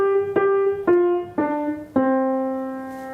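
Piano playing four separate notes at an even pace, each slightly lower than the last, the final one left ringing; close and clear with no talking, as in the ending bars of Jingle Bells.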